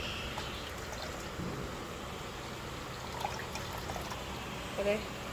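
Water pours and trickles steadily into grated coconut as it is squeezed for coconut milk for a Vishu mango curry, a soft, continuous flow at low volume in a quiet kitchen.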